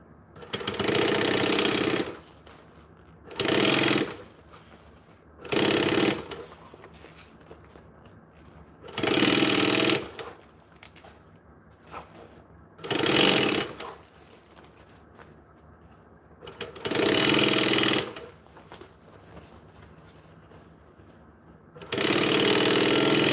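A sewing machine runs in repeated bursts, top stitching two layers of fabric down. About seven loud, steady runs of a few seconds each alternate with short quiet pauses, close to the listener, with no talk.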